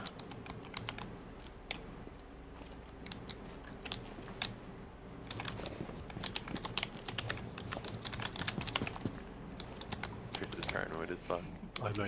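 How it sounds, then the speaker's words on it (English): Rapid computer keyboard typing during a Rainbow Six Siege game session, quiet clicky keystrokes pattering steadily throughout with game sounds in the background. "you can hear it in his keyboard strokes."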